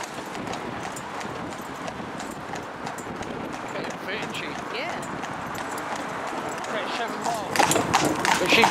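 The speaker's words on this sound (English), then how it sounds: "She's trotting all the way." A Cleveland Bay horse trots in harness on a road, pulling a load, with steady rhythmic hoofbeats on hard ground. Traffic noise and people talking are heard alongside.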